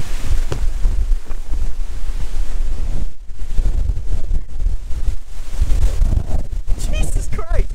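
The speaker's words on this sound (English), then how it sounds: "This is fucking windy." Strong wind buffets the microphone with heavy, rumbling gusts and a brief drop in the middle, while voices speak over it.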